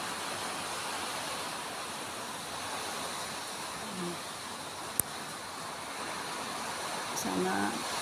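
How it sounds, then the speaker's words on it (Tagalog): Heavy rain from Typhoon Kristine in Laguna pours as a dense, continuous hiss, steady and loud throughout, with a sharp click midway and faint voices briefly audible. "Ang ulan."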